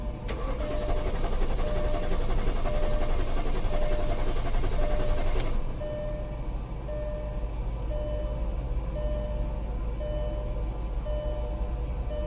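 Engine of a 2001 Audi A8L 4.2 Quattro cranking without catching, a steady churning drone that drops a little partway through and carries on without firing, close up.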